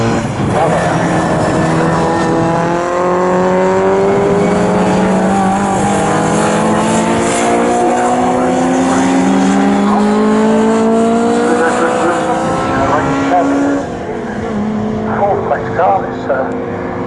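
Pre-1966 touring cars, including an Austin A40, race at Snetterton, their engines droning loudly and continuously in overlapping, rising and falling tones as a pack passes, with commentary running over the engine noise.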